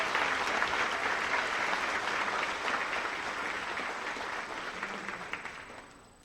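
An audience claps steadily at a school awards ceremony, the applause full at first and then tapering off gradually toward the end.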